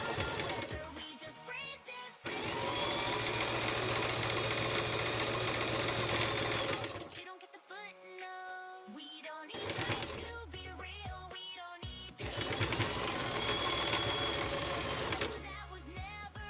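A sewing machine stitches a rope bowl in long, loud runs of rapid mechanical whirring, broken by short pauses before it starts up again.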